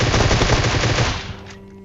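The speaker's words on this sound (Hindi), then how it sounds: "तो देखो अब कैसे प्री फायर में लेते उस बंदे को" Rapid automatic gunfire from the PUBG Mobile video game rattles in a dense burst of shots that stops after about a second, leaving a brief fading tail.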